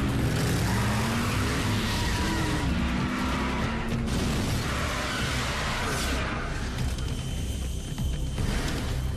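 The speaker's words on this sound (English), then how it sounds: "Autobots, let's rev up and roll out!" Cartoon Autobot robots transformed into vehicles rev and speed away, a loud continuous engine roar with tire screeches, whooshing passes and a rising swoosh near the end, all mixed with a busy soundtrack.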